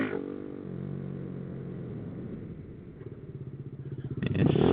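A motorcycle engine drones while riding in third gear, heard close and steady, with a rhythmic pulsing rise in revs toward the end.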